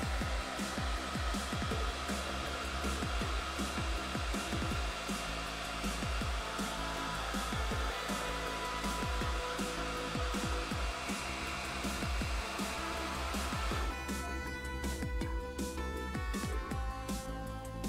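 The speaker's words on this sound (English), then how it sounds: "one more go with the hairdryer" A hair dryer blows a continuous whirring drone while drying paint on miniatures, steady and close throughout, with a slight shift in tone near the end.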